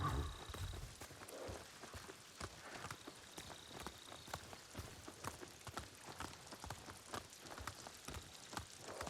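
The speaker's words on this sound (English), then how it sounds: "Maybe it's supposed to be raining for this quest." Rain falls in Ghost of Tsushima, a soft, steady patter of drops near and far, with faint hoof-like clops and footsteps mixed in and no talk.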